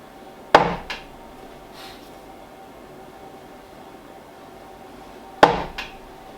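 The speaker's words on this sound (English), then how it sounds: "So I got this hammer. We can use this hammer for that." A hammer drives wainscoting boards into place inside an off-grid cabin. Two sharp, fairly close blows land about five seconds apart, each ringing briefly, with quiet room tone in between.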